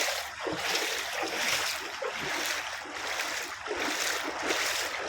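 Splashing footsteps wade through deep rainwater flooding a Dubai street, a steady churning slosh close by with continuous broadband wash and no clear individual steps.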